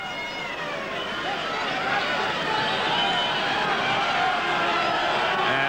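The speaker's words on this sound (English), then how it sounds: "The crowd are setting up a roar. It's a decent sort of a crowd for such a cold night too." Rugby league crowd on a cold night roars in a sustained, dense wash of cheering that builds slightly and holds steady, heard from within a large stadium.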